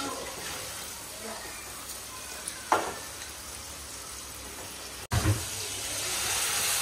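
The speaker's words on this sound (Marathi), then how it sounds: "थोडासा आपल्याला रस्सा पाहिजे तेवढा पाणी पण टाकून घेऊ" Water is poured into a sizzling fish-roe curry in a pan, giving a steady crackling hiss with a sharp splash and surge of sizzle near the end.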